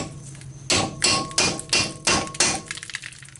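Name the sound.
hammering chisel to stake CV axle nut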